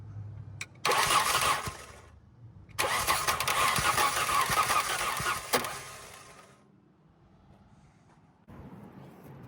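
A BMW E36 with an M50 engine, rusty and fitted with a damaged wiring harness, cranks in two loud bursts. The second burst runs several seconds and catches into a rough idle before fading, with another engine sound rising at the end.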